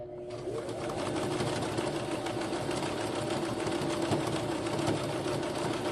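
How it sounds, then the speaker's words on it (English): Two fabric pieces for a handmade gratitude journal are zigzag-stitched together on a sewing machine, which runs close and continuously with an even mechanical whir from start to finish. "Now I don't have to do anything but sew straight down the center to stitch these two together."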